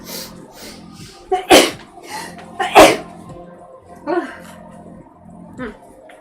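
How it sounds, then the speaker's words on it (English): A person sneezes loudly several times up close, two strong sneezes followed by smaller ones, with breathy sounds between them. "Oh, I'm gonna sneeze."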